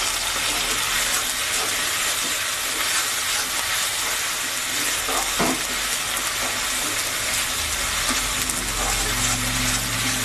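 Ginger and garlic fry in a pan for a Bengali chital fish muitha curry, a steady broad sizzle and hiss running throughout with a brief clink of stirring partway through.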